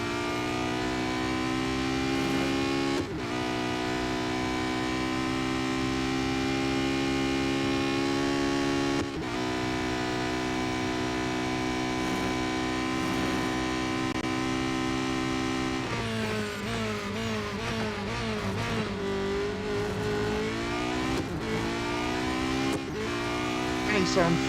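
Race car engine in the video game Real Racing 3, a steady loud droning whine held at high revs that drops and shifts pitch through a corner, continuous under occasional talk.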